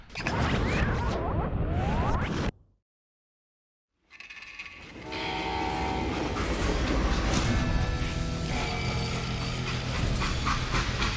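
A video game train rumbles and clatters along rails with a loud steady roar, broken by a brief silence before the noise resumes and continues.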